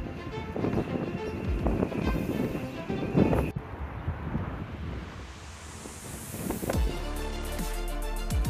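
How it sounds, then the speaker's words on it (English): Gusty wind buffeting the microphone at a chimney repair site, a loud rumbling roar that rises and falls, with faint background sounds underneath. "God, it's so windy."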